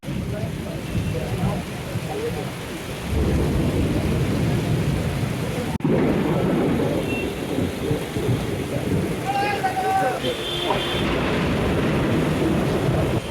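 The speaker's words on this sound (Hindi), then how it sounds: "और जोर का बारिश ही हो रहा है, देख सकते हो आप। चले ही जाना है। आसमान भी बहुत गरज रहा है" Heavy monsoon rain pours in Kolkata with rolling thunder, a dense steady downpour hiss broken by deep rumbles and a sharp crack midway, while someone talks over the storm.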